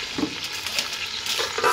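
Egusi vegetable soup sizzles and is stirred in a pot, with soft scraping stir strokes over a steady crackle, close and brief, no talking.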